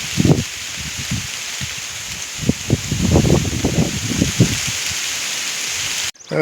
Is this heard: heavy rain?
yes